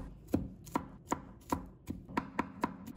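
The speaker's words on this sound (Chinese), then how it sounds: "再准备1把大蒜，先把它切成片， 再切成末。" A knife minces garlic on a cutting board in a home kitchen. About nine crisp, evenly spaced chops sound at a steady rhythm, close and clear, with no talking.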